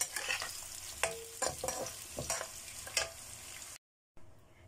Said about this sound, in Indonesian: Kita goreng setengah matang gitu aja ya